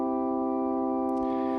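Organ tone from a Yamaha CK88 stage piano with the rotary effect off, a steady sustained chord held loud and static without any swirl.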